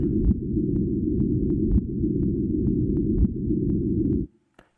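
Instrument noise from a gravitational wave detector, played as sound: a dense, rumbling low-pitched noise roars steadily, with faint periodic clicks scattered through it, then cuts off abruptly near the end.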